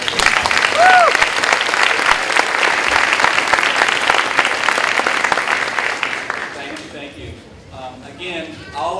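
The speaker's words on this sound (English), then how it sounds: "let's go ahead and give them a round of applause" A large audience at a high school honors night applauds loudly and continuously, the dense clapping fading after several seconds as murmuring voices and a speaker return.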